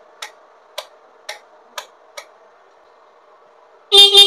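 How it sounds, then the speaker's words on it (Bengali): A Bajaj M80 scooter's stock horn, engine off: five evenly spaced short clicks precede two loud, close horn blasts at the very end, with no talking. "দেখো স্টক হর্ন ফর্ন বাজছে"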